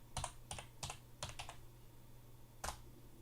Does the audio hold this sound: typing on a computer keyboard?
yes